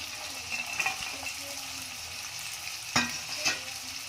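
Green peas being stirred into Maggi noodles frying with egg in a pan, a soft continuous sizzle with a few light scrapes and two sharper clacks of the utensil near the end.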